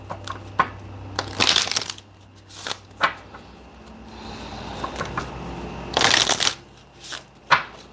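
A deck of healing cards being shuffled in a chakra healing session, with loud riffling bursts near 1.5 and 6 seconds and scattered clicks and taps between them, close by and without talk.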